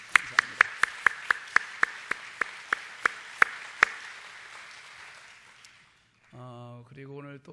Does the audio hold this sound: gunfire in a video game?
no